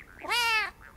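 A cartoonish cat meows in the video game Stray: one clear, rising-and-falling meow, close and loud, heard alone.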